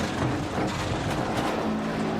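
A rally car engine in Dirt Rally 2.0 on an Australian stage, steady broadband engine roar holding high revs throughout, loud and continuous with no talk over it.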